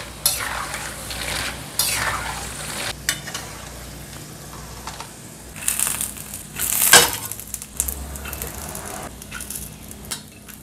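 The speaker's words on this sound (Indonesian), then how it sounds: "Bawang putih sama cabai aku goreng." Garlic and chili frying in a pan, with sizzling broken by stirring scrapes and clinks of a utensil against the pan, close and fairly loud.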